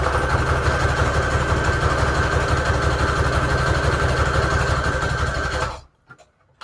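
A sewing machine runs steadily with a loud, close motor whir and rapid needle chatter while stitching junk journal embellishments, then stops abruptly near the end, leaving near silence.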